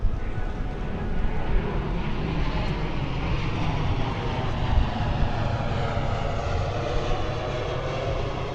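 A low-flying airplane drones steadily overhead near Portland airport, a broad continuous engine roar that swells slightly and persists throughout with no other prominent sounds.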